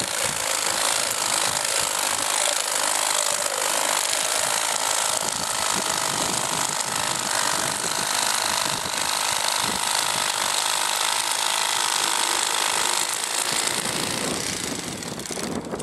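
A Bubba Blade electric fillet knife with a 9-inch E-Flex blade saws through striped bass ribs, a loud, continuous buzzing motor drone with a gritty cutting texture that eases slightly near the end.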